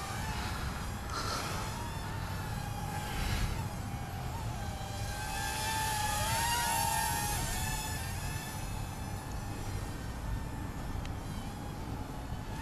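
A udiR/C Free Loop U27 RC plane flies in high mode, giving off a continuous high-pitched electric motor whine with a steady buzz. It rises and falls slightly as the plane passes, over outdoor wind noise.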